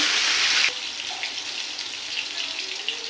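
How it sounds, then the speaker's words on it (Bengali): Paneer frying in a pan gives a steady, bright sizzling hiss that is loud for the first moment, then settles into a softer, continuous crackle with small pops. "আর পনিরটা অল্প লাল করে ভাজা করে নেব।"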